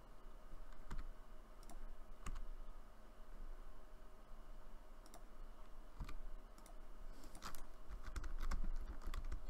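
Computer keyboard typing and mouse clicking at a desk during a Cities: Skylines session, with scattered close, crisp keystrokes and clicks in small irregular bursts over faint steady background hiss.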